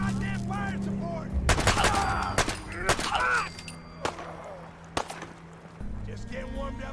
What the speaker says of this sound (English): tests to demonstrate what it's like to use this handgun out in the Boston Wastes